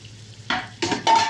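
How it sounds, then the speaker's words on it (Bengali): Chicken with spices being stir-fried in a pan until the liquid dries off, three quick bursts of loud sizzling and scraping as the mixture is turned, with quiet pauses between. "এবার যে পর্যন্ত পানিটা না শুকাবে পর্যন্ত কষাবেন।"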